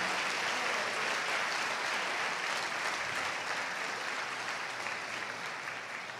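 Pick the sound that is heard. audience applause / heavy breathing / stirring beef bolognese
audience applause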